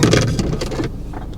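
A Mercedes A200d with an engine fault moving off after being shifted into drive, a close, loud engine note lasting about a second before dropping away.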